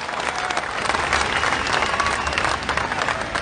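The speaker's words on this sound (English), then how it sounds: "And a big cheer for all of our friends in Western Sydney and the Muslim communities." A rally crowd in Sydney claps and cheers together, a dense sustained wash of applause that swells slightly midway and holds to the end.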